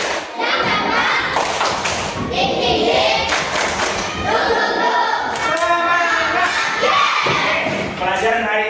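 A class of students performs a tepuk semangat chant, with loud rhythmic bursts of clapping and thumping mixed with children's voices shouting in unison throughout.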